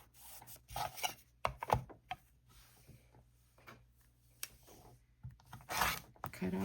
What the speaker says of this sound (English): Cut off the excess.